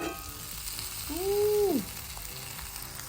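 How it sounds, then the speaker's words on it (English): Papaya vegan salmon fries in a pan just after flipping, a steady close sizzle under a brief exclaimed voice. "so now let's flip our salmon again."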